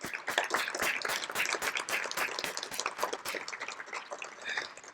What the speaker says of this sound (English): If you could please give them both a big round of applause for me.